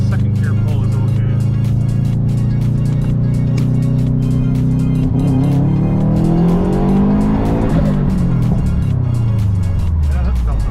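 A Subaru accelerates hard through second gear, its engine droning loud and rising steadily in pitch before easing off as the revs drop near the end, heard from inside the car.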